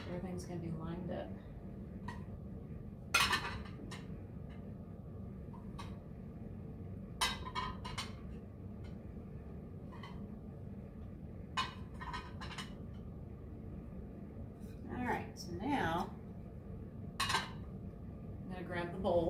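Ceramic dishes and bowls are set down and lined up on a farmhouse dining table, producing scattered close clinks and knocks of plates and cutlery under a quiet room hum, with some speech.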